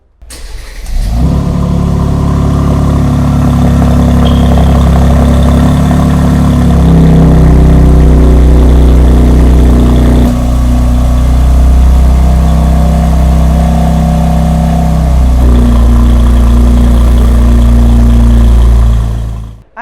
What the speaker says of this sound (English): what does come with this massive 3-litre V6 engine is an amazing exhaust note